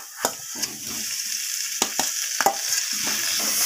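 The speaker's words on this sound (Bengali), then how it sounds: "আলুগুলোকে আমি এইভাবে কষিয়ে নেব মশলার সাথে" Fried potatoes being stirred and sautéed with spices in a pan, giving a steady soft sizzle with several sharp scraping knocks of a spoon against the pan.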